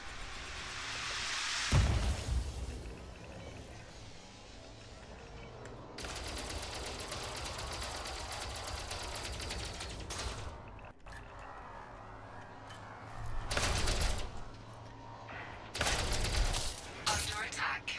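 Missiles and weapon fire during Elite Dangerous ship combat, a roaring launch burst early, then a long sustained stream of rapid fire and several later loud bursts over a low hum, with someone talking at times.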